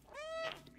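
A cat in the video game Stray gives a single short, clear meow, rising and then falling over a faint background hum.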